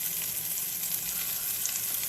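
Homemade meatballs brown in a hot pan with a dense, continuous sizzle and fine crackling. The frying is close and even throughout, and no one speaks.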